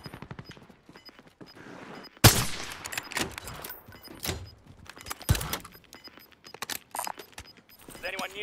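Video-game gunfire from a fight up a control tower: sharp shots and brief rapid bursts ring out near and loud, mixed with a voice talking over the action.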